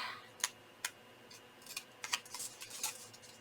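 Scissors snipping a Christmas gift card tag, a series of crisp, close cuts in an irregular rhythm, a few isolated snips followed by a quicker cluster near the end.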